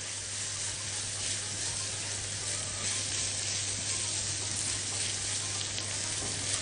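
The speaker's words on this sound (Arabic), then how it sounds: "هبتدي احط الفريك واشوحه بقى مع البصلة" Freekeh sautés with onion in a hot pan, giving off a steady, close sizzle and crackle with faint stirring, continuous throughout with no one speaking.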